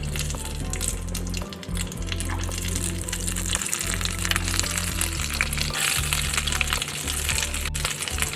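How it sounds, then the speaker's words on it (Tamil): Egg-coated cauliflower pieces deep frying in oil, a loud, dense, continuous bubbling sizzle up close throughout, with no one talking. "மிக்ஸ் பண்ணிவிட்டு இப்போ எண்ணெயில் ஃப்ரை பண்ணி எடுத்துடலாம்."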